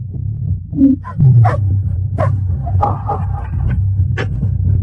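Hunting dogs bark in short, scattered bursts over a low rumbling background, with a few yelps and whines mixed in at moderate distance.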